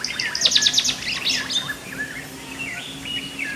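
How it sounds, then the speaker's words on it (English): Bright, rapid chirping calls of a white-browed wagtail in the Western Ghats, sharp chip-chip notes in short trilled bursts, loudest at the start, followed by softer scattered tweets over quiet background. "The white-browed wagtail has a variety of calls, including a sharp chip-chip sound."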